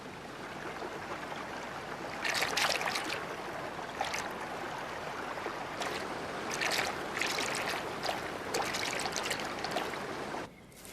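A mountain river flows with a steady broad rush of water, a close, continuous wash with brighter splashing surges, and no voices.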